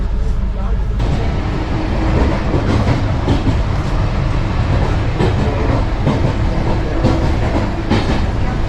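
Steady rumble of an Indian Railways train rolling along the rails, heard from a window seat inside a Vistadome coach, with rhythmic clacks and rattling carriage noise throughout, close and loud.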